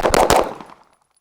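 Two quick, loud shots from a Staccato pistol at a shooting match, fired in close succession, followed by a short fading echo.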